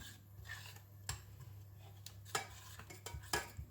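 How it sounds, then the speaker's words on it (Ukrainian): Thickening jam being stirred in a pot, heard as quiet intermittent scrapes and clinks of a utensil against the pot over a low steady hum, fairly faint and close. "варимо до загустіння, постійно перемішуючи"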